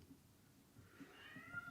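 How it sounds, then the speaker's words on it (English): A cat meows a few times, faint and somewhat distant, amid quiet room noise with no talking. "Sorry for my cat, it's going crazy."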